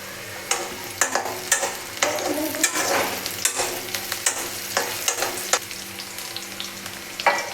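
Amaranth stalks and pumpkin pieces fry with onions in a pan for rohu fish curry: a close, continuous sizzle punctuated by regular scraping stirs about every half second.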